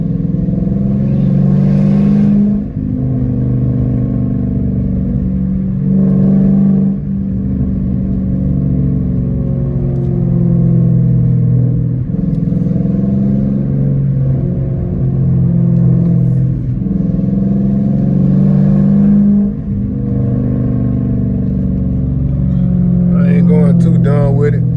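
A catless Dodge Challenger R/T exhaust roars loudly in traffic, with repeated deep revs that swell and fall in waves for about twenty-five seconds, heard close from inside the car.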